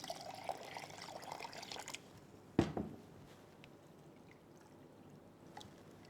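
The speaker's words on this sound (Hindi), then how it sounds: "पैन में जाएगा ये अदरक का पेस्ट, साथ ही इसके अंदर हम डालेंगे खूब सारा पानी" Water pours steadily into a pan holding ginger paste for about two seconds, followed by a sharp splash and quieter drips and settling sounds.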